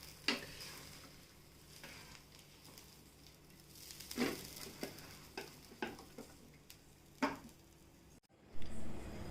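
An egg dosa sizzles steadily on a hot pan before being flipped, a soft continuous fry with occasional sharper crackles and a few light scraping taps.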